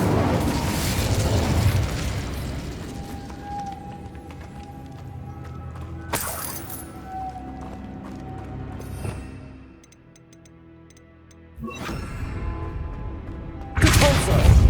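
A fire spell cast in Hogwarts Legacy, a sudden bright burst around six seconds, with a second burst near twelve seconds and another near fourteen, heard over steady game background.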